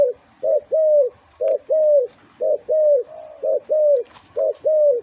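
A spotted dove decoy bird coos loudly and close in Buriram, repeating short rhythmic phrases of two to three soft, hollow notes with brief gaps between them.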